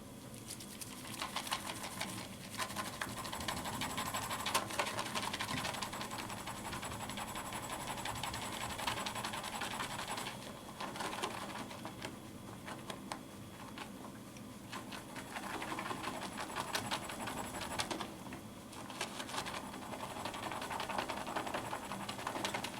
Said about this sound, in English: I'm going to empty the contents of that in the bowl, and I'm going to dry my fingers a little bit, and then I'm going to start the lather.